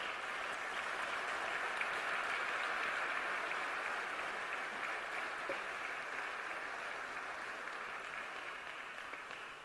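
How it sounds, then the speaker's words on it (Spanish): Applause from a church congregation, a steady broad wash of many hands clapping that continues without a break and fades slightly toward the end. "Denle un fuerte aplauso."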